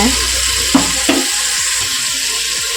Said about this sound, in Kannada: ಇಷ್ಟು ಫ್ರೈ ಆದ ನಂತರ ಟೊಮೆಟೊ ಹಾಕ್ಕೊತಾ ಇದ್ದೀನಿ